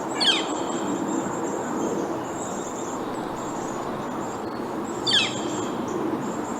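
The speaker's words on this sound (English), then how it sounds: "Northern flickers are a common woodpecker known for their loud call and drumming." Two sharp northern flicker woodpecker calls ring out several seconds apart over a steady background of ambient noise.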